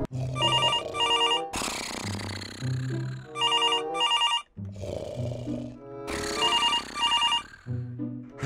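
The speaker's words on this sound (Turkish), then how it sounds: "Telefonda birisi arıyor." Telephone ringing for an incoming call inside a Minecraft game: a loud, bright electronic ring in repeated double bursts, broken up by gruff growling noises between rings.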